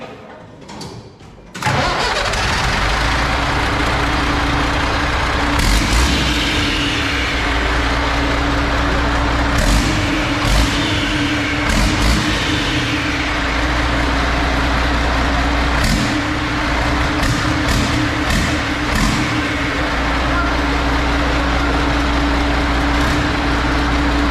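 The engine of a Citroën HY van cranks and catches, then settles into a loud, steady, rumbling idle that runs on for over twenty seconds with a few small bumps in its beat.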